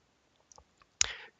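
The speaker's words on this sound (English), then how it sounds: "Clicking B to scroll down a page" A single sharp button click on an Invisible Witness base station device, quiet and close, preceded by a few faint ticks in near silence.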